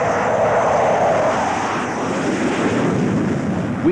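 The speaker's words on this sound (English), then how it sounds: "In fact, this one is one of the ex-Royal Australian Navy aircraft." An ex-Royal Australian Navy A-4 Skyhawk jet performing at an air display gives a loud, steady roar from close by, with wind noise buffeting the microphone throughout.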